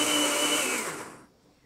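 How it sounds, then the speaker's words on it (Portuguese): A kitchen blender whirs loudly as it beats hot homemade condensed milk, a steady dense motor roar that winds down and fades out over the last half second. "colocar no liquidificador e bater por 8 a 10 minutos"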